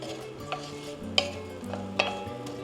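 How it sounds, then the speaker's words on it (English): Onions cooking in fat in a pot on the stove give a low, steady sizzle with soft scrapes and a few light clinks of a utensil against the pot, fairly quiet and with no talking. "And we're turning the heat back on, and we're going to cook our onions."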